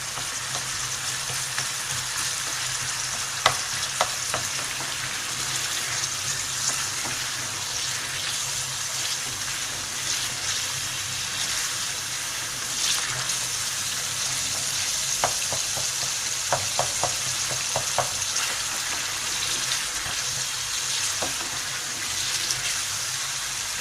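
Beef stew being sautéed and stirred in a pan, a continuous loud sizzle and bubbling hiss with occasional soft clinks and scrapes of the spoon against the pan, carrying on steadily with no voices.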